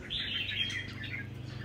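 A caged songbird chirps in a rapid string of bright, high notes inside a home, clear and close against a steady low background hum.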